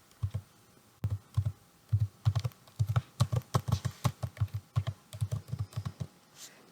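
Typing a database name on a computer keyboard, heard up close as a steady run of soft, evenly spaced keystrokes with a few brief pauses and no voices.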